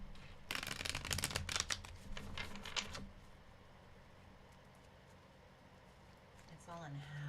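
Tarot cards are shuffled in a quick rattling burst of riffles lasting a few seconds, close and crisp, followed by quiet and then a voice speaking at the end.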